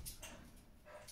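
A dog barks in a few faint, short yaps spaced across a quiet room.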